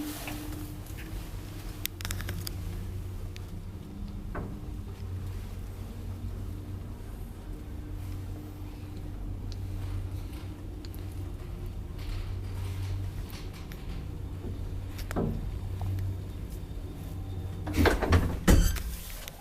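Ride in an early-1963 Kone traction elevator with 5 floors in an apartment building at Töyrytie 2C, Maunula, Helsinki: a steady low motor hum and rumble throughout, with occasional clicks and knocks, then louder door and mechanism clatter near the end.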